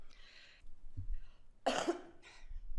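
A single loud, harsh cough bursts out near the mic during a city council meeting, framed by faint throat noises and a short breathy sound just after.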